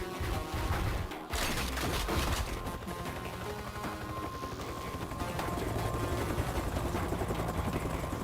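A helicopter in the Transformers Decepticons video game gives off a loud, continuous rotor chop and engine whine. Rapid mechanical bursts and crunching impacts cut through it.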